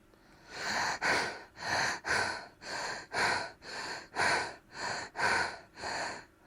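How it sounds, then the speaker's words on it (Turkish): Rapid belly breathing exercise with hand on the abdomen: about eleven quick, forceful nasal breaths in steady rhythm, each a short loud whooshing burst, close and alone with no talk. "Hızlı nefesler alacağız."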